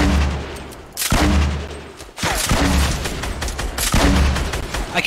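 Loud bursts of rapid gunfire from a first-person video game shooter, firing in several repeated volleys with brief pauses between them, close and dominant.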